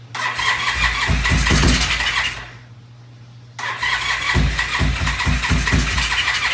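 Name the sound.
gold motorbike engine starting with choke on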